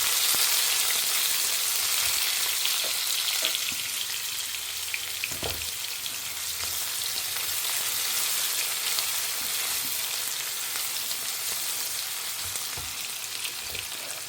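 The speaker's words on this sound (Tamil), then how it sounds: "ஸோ இது கொஞ்சம் பொரியட்டும். ஒரே ஒரு வெங்காயம் போட்டிருக்கேன்." A single onion fries in a home kitchen pan, giving a continuous close sizzle with occasional soft pops and faint stirring scrapes and no talking.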